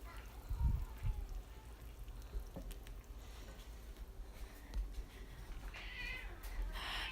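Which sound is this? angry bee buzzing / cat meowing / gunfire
cat meowing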